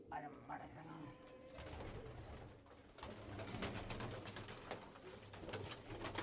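Pigeons coo softly amid a busy, rustling background, with faint fluttering and muffled voices mixed in.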